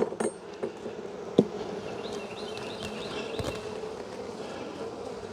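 Honey bees buzz steadily through a hive inspection of a freshly built-out swarm, a soft continuous hum broken by a few close knocks and clicks.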